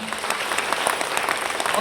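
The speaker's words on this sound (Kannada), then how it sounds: "ಇದಕ್ಕೊಂದು ಜೊತೆ ಚಪ್ಪಾಳೆ ಕೊಡ್ಬೋದಾ?" An audience at a business plan presentation applauds, a brief, dense burst of many clapping hands that stays steady and close, with faint crowd murmur beneath.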